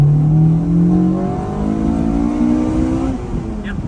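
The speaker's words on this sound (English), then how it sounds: "Let's go ahead and pop VTEC down here, make sure it still works." Honda CRX from 1990 with a B18C5 engine revving hard into VTEC, a loud continuous rising engine howl with climbing harmonics that holds steady for about four seconds, no talking.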